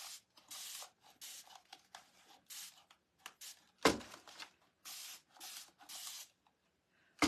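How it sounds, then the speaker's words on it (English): Whitewash finish sprayed onto a metal wall shelf in a series of short, hissing bursts with quiet gaps between them, plus one louder knock partway through; no one speaks. "we're going to spray it"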